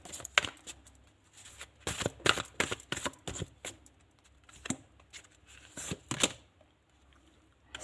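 Cards shuffled and drawn for a card reading, sharp rustling and flicking bursts in irregular clusters with short quiet gaps, close by and without speech.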